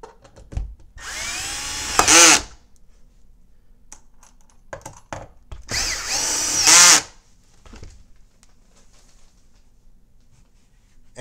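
Power drill tightening fasteners on an upholstered platform bed frame, two short whirring bursts a few seconds apart that rise in pitch and end in a brief loud whine, with quiet handling noises between.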